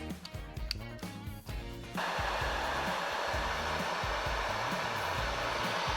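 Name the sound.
heat gun shrinking heat shrink tubing on drone wiring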